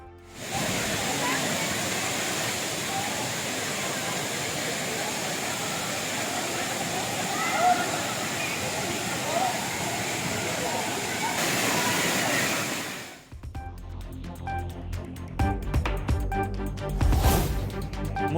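Thirparappu waterfall pours with a steady, dense roar of flowing water for most of the stretch, then cuts abruptly to quieter, choppier sounds near the end.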